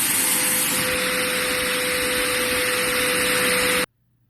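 A Numatic RSV130 backpack vacuum, modified, runs with its cloth bag sealing over the motor and choking the airflow: a loud, steady rushing roar with a fixed whine, cutting off abruptly near the end.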